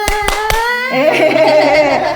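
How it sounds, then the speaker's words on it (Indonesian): Hands clap in three sharp beats at the start, then a voice and singing of a children's clapping song carry on over a close, loud indoor setting. "Kalau kau suka hati tepuk tangan."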